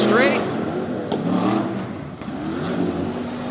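Ford-engined trucks, one a Jeep with a Ford engine, racing down the final straight at a Tough Trucks Challenge qualifying session in Bloomsburg, PA, heard as a distant engine roar under a commentator's voice.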